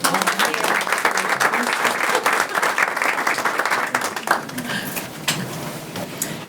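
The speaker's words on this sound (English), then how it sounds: "Give them another round of applause." A board meeting audience gives a round of applause for students, loud and dense at first, then thinning out into scattered claps.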